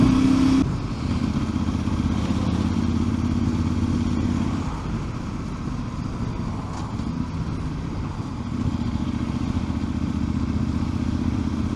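A Voge 800 Rally motorcycle engine drones at low revs, about 2,500 rpm in fourth gear under load, a steady labouring rumble close by, dipping slightly midway before pulling on.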